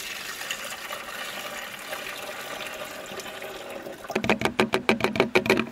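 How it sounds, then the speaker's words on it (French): A watering can filled with about 10 litres of water outdoors in a vegetable garden: a steady rushing fill, then a louder rhythmic series of sloshing gushes near the end. "j'ai rempli mon arrosoir d'eau et j'y vais jusqu'aux 10 litres"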